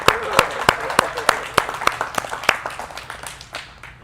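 A church congregation claps together for a woman being appreciated, a steady rhythm of sharp, close hand claps that gradually thins and fades over a few seconds, with no talking over it.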